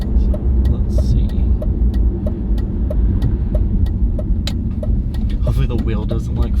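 A BMW E46 drives along the road with a steady, loud engine and road drone, and faint rattles and clicks ride over the hum while someone talks throughout.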